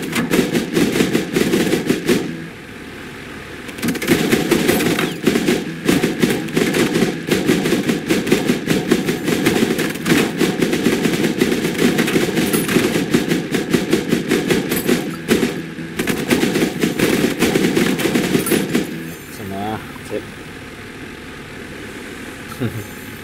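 Long bursts of rapid machine gun fire from a ship in the naval video game Age of Water rattle over an engine rumble, pausing briefly between volleys.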